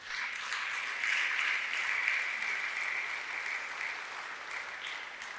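A church congregation applauds during a French-language Sunday worship service, a steady, sustained wash of clapping from many hands that carries on evenly without speech.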